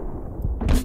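A grenade launcher fires in Max Payne 3, a single short muffled thump followed by a brief burst of noise, loud and close, lasting under a second.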